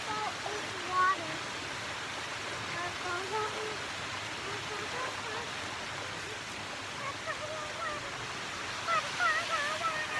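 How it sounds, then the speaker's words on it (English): A waterfall on a family nature hike makes a steady, faint rushing wash in the background, while children's voices chatter faintly over it. "The waterfall is water."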